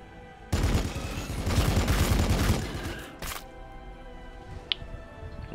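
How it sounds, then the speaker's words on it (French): A rapid, heavy burst of twin assault cannon fire in the video game Warhammer 40,000: Battlesector roars for a couple of seconds, then fades into lighter rumbling and a sharp later crack. "Le double canon d'assaut porte bien son nom."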